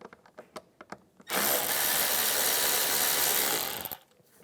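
A ratchet with an 8mm socket loosens a bolt on a Cadillac SRX: a few sharp, quick clicks come first, then a loud, sustained mechanical whirr that lasts about two and a half seconds before stopping. No one speaks.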